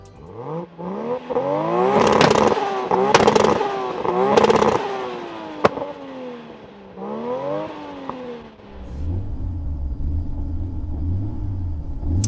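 Tuned 800hp Nissan GT-R R34 and 900hp Toyota Supra engines rev loudly in repeated rising and falling sweeps, with sharp pops between bursts, before settling into a lower rumbling idle.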